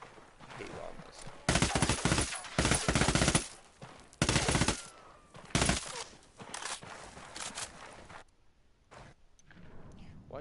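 An M4 or Stoner rifle fires in Ghost Recon Wildlands in several loud bursts of rapid automatic gunfire, separated by short pauses and trailing off into quieter scattered shots.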